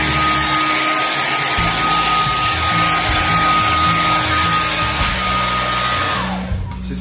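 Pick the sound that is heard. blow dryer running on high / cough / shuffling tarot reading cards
blow dryer running on high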